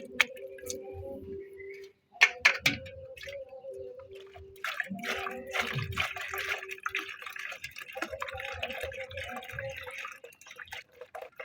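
Water runs and splashes as lentils are washed by hand, with a thin trickle, scattered drips and clatters, then a denser, sustained splashing stretch, close and moderately loud.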